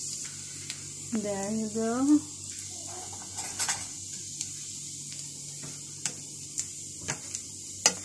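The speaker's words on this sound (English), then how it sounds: "I just fry this garlic with the butter." Garlic frying in butter in a pan gives a steady, low sizzle throughout, broken by light utensil taps and clinks, while a person speaks briefly near the start.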